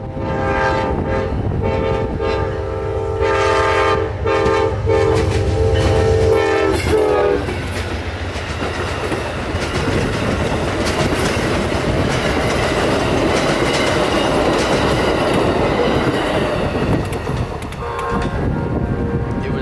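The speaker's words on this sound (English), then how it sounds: "Amtrak 91 was making his way out of Tampa, headed to Miami, with one locomotive today." Amtrak train 91 with one locomotive rumbles past with a loud horn blast at the start, followed by steady clattering wheels and a roaring rush that stays close.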